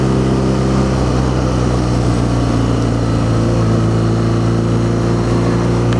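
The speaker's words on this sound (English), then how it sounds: "I hear the engine, not the exhaust, which could be a good thing for someone" BMW R nineT Scrambler motorcycle engine running steadily, a loud continuous mechanical hum and drone heard from the rider's position with no talk over it.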